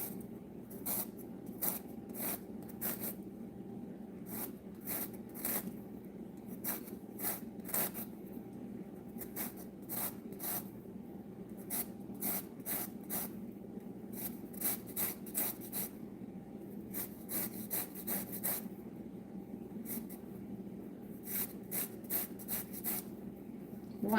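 A lemon rubbed against a medium grater in a quiet kitchen, its zest scraped off in quick, rhythmic rasping strokes that come in short bursts with brief pauses between them.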